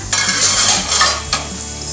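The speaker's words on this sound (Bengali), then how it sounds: "এবার আলুগুলোকে আগে ভেজে নেব" Potatoes fry in hot oil in a kadai, giving a loud, steady sizzle broken by a few sharp scraping stirs, close up and with no voices.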